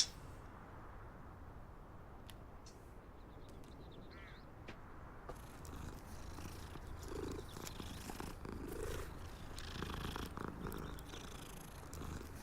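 A cat in the Hogwarts Legacy video game purrs softly and continuously, faint against a low game background, with a few brief bird-like calls mixed in.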